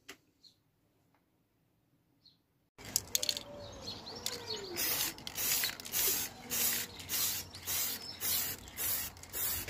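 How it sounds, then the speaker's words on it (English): After near silence, short bursts of polyurethane spray varnish hiss repeatedly in a steady rhythm onto a routed, resin-inlaid plaque, with faint bird chirps in the background. "I just sprayed on some polyurethane spray, 3 or 4 coats of that."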